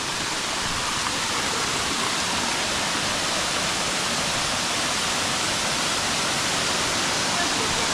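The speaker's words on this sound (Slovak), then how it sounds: "No, páči sa ti vodopádik?" A small waterfall in Bali roars steadily and closely, a dense, even wash of falling water that holds at full strength throughout and buries everything else.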